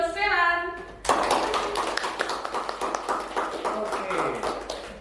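An audience of students claps hands together in a lively burst of applause lasting several seconds, close and loud, following a short stretch of speech.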